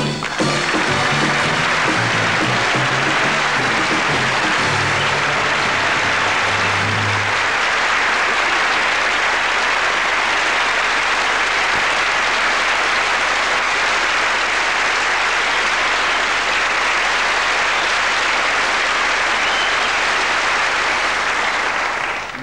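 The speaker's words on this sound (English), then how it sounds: "No, see, that applause, it just shows you how lovely you are." Sustained studio audience applause at a 1978 Christmas variety show sketch, loud and dense, with a few lower, heavier claps early on, continuing steadily for over twenty seconds with no talk.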